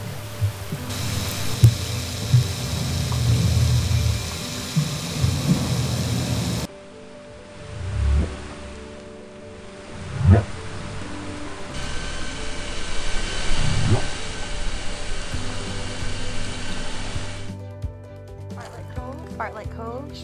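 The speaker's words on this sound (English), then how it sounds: "that's the sound of a male harbor seal roaring because it's the mating season." A male harbor seal roars underwater during mating season, picked up by a hydrophone in Glacier Bay, Alaska: low, drawn-out growling rumbles and a few soft thumps come and go over steady hiss and water noise.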